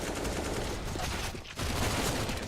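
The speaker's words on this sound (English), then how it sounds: "And now Jumpy has been activated again with the MAC-10." MAC-10 submachine gun fire in a Counter-Strike esports match on Cobblestone, a dense rapid rattle of shots that drops out briefly midway and then resumes.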